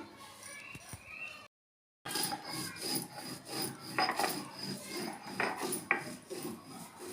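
Spice paste of roasted cumin and whole black peppercorns being ground by hand on a grinding stone, a steady rasping scrape repeated in strokes, close and moderately loud, with a brief silent gap near the start.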